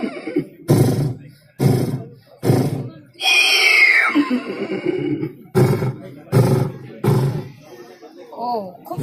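A man imitates a galloping, whinnying horse with his voice: rhythmic clopping bursts, then a long high neigh that slides downward, then more hoofbeat-like beats, loud and close.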